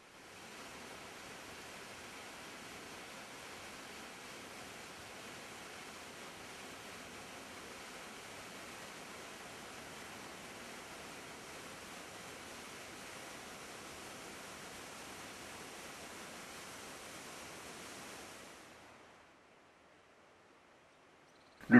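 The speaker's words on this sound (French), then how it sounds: "L'unique attraction touristique à proximité est une magnifique cascade." A waterfall in Chile roars as a steady, dense broadband rush, unbroken for about eighteen seconds before cutting out abruptly into near silence.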